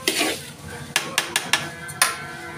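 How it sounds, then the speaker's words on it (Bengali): Aloo bokhara plums, onion, raisins and rice frying together in a pot for biryani, with a soft sizzle under a run of sharp metal spoon scrapes and clinks against the pot, close and fairly loud. "এই যে এখন ওই আলু বোখারা, পেঁয়াজ, কিশমিশ, চাল এগুলো একসাথে দিয়ে ভাজা ভাজা করে ফেলবে।"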